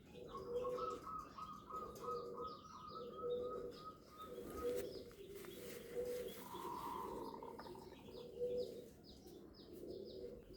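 Pigeon cooing in repeated low, soft phrases, with brief higher calls and chirps from other birds in the background; the pigeon is sick and thin, its head tilted.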